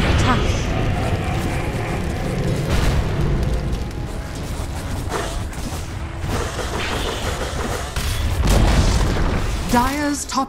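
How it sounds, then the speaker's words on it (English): A deep boom and rumbling blast as a tower is destroyed in Dota 2, set under ongoing game effects, with clashes and spell sounds. "Dire's top tower has fallen"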